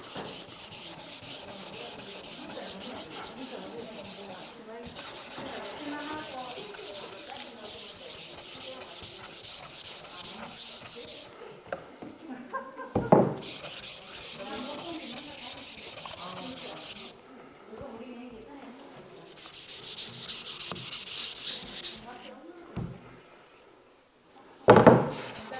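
Sandpaper rubbing back and forth over a wooden cutting board in a woodworking class, steady close scratchy strokes in several long bursts separated by short pauses, with occasional knocks of the board.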